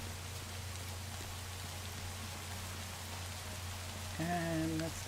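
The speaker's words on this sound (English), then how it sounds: "It's raining." Rain falls steadily in the video game Minecraft, an even soft hiss over a low hum, and near the end a brief tonal chime rises above it.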